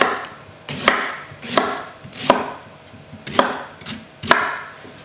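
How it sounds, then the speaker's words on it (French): A knife chops leftover celery into small pieces on a board, five sharp, evenly spaced cuts ringing out close by with short quiet gaps between them and no talking. "On va couper en petits morceaux le céleri restant."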